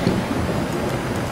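Steady rumbling thunderstorm with heavy rain from the game Gone Home, a dense low roar of downpour and distant thunder filling the whole moment without any talking.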